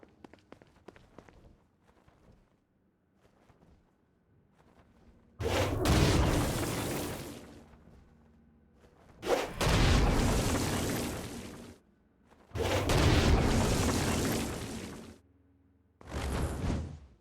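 Stone Blast explosions from Saints Row: Gat Out of Hell used against flying demons: four loud, roaring blasts, each lasting a couple of seconds, separated by short quiet gaps with faint footsteps and movement.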